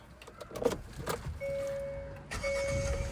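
Inside a Hyundai Exter facelift, a few clicks and taps come first, then the car is switched on and a steady electrical hum and engine drone rise and hold, briefly interrupted before resuming.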